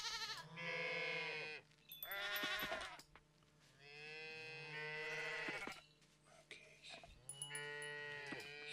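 Goat bleating in the farming game Coral Island, a run of several wavering, nasal calls in quick succession with short gaps, close and clear over a quiet backdrop.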